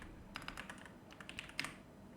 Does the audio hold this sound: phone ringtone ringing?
no